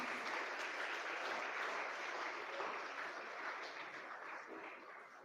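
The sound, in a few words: parents applauding at prize giving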